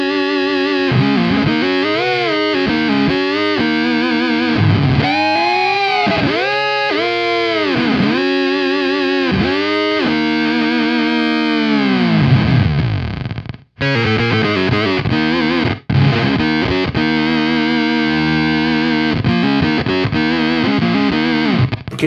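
Electric guitar run through a Beetronics Swarm fuzz pedal, giving a thick, wildly modulated fuzz with swooping pitch sweeps and sputtering gated drops, loud and continuous with no talking.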